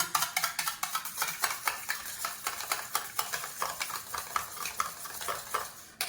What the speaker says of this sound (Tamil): இப்போ இதை நல்லா கலந்து விட்டுக்கிறேன்